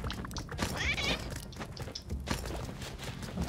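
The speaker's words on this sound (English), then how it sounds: "And the cat's right there." A cat meows in Spelunky 2, a short mid-pitched cry heard amid game thumps and footstep sounds.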